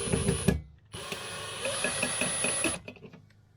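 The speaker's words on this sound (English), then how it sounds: "Let me get this drilled for you." A power drill boring a hole during an AC outlet upgrade on a queen-to-king bed conversion: a short whir, a brief pause, then a longer steady high-pitched whine that cuts off, close by.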